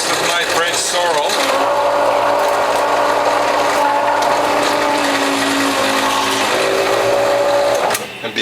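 A Norwalk juicer grinds French sorrel with a steady, loud mechanical whirring and rattling grind that runs almost the whole time before cutting off near the end.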